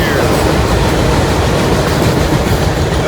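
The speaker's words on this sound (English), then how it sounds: "Loaded autoracks here." A loaded autorack freight train rolls past on the rails, a loud continuous rumble of wagons and clattering wheels close by, with no pause throughout.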